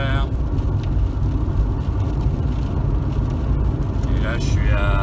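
Citroën Evasion 2.0 HDi diesel revving toward 4000 rpm while losing power, a steady loud engine drone from inside the car, with someone talking over it.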